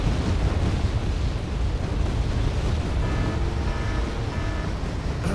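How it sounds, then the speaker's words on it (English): Artillery barrages in the Wargame Red Dragon sandbox mod's 1950s battle form a steady, heavy rumble of distant blasts and roaring noise that holds for the whole stretch, with no voices. "we got some of our own artillery going on here now"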